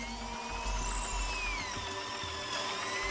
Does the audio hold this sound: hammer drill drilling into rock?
yes